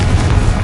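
A Confringo fire spell explodes in the video game Hogwarts Legacy, a short, loud, low booming blast that fills the whole moment with no speech.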